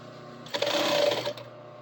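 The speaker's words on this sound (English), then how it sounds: "standard, normal, run-of-the-mill back stitch to start" A sewing machine back-stitches the start of a liner seam in one short, close mechanical burst of under a second, with quiet before and after.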